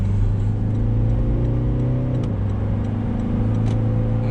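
A 2023 Toyota Prado VX accelerates hard up to 80, its engine droning steadily from inside the cabin. The pitch climbs, drops briefly at a gear change, then rises again. No one talks.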